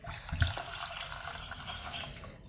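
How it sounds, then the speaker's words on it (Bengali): Water splashes and swirls steadily as Gobindobhog rice is rinsed by hand in a bowl, a close, soft continuous wash with no talk. "আমরা গোবিন্দভোগ চালটাকে প্রথমে ভালো করে জল দিয়ে ধুয়ে নিচ্ছি"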